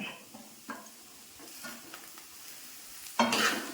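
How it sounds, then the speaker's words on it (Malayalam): Onion and tomato frying in a pan for tomato thoran, with a soft sizzle and occasional scrapes of a stirring spoon, quiet and close, ending in a louder burst of sizzling. "സവാള ആദ്യം അങ്ങ് ഇട്ട് കൊടുക്കാം എന്നിട്ട് നമുക്ക് ഇതിലേക്ക് തക്കാളി ഇട്ട് കൊടുക്കാം"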